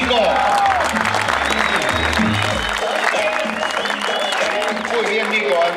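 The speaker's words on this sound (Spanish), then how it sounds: "Fuerte el aplauso para Nicolás Gómez." Applause from a speedway crowd for the finisher of a 200 cc final in Bahía Blanca, steady and loud for nearly six seconds, with announcer talk and engine or crowd rumble mixed in.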